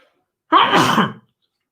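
A single sharp sneeze, close and loud, bursting out of silence and ending abruptly.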